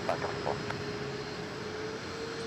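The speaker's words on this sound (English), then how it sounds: "That's American Flight 524. It's an Airbus A321neo." An American Airlines Airbus A321neo jet at DFW Airport gives a steady, moderate engine roar with a faint whine held throughout, and a few brief voices and clicks sit faintly over it.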